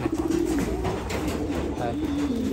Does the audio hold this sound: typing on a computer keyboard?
no